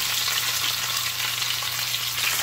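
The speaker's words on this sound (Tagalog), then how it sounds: "Over high heat, iprito po natin ang ating tilapia para medyo crispy siya." Tilapia frying in hot oil over high heat, a dense crackling sizzle that stays steady and close throughout, with a faint low hum underneath.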